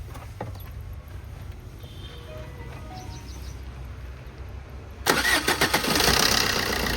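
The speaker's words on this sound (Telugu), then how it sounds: "ఒకసారి ఇంజిన్ ఆన్ చేయండి" A 2011 Maruti Suzuki Swift Dzire VDi diesel engine with a replaced timing chain cranks and catches at about five seconds, then runs loud and rough with a few revving pulses over steady background hum.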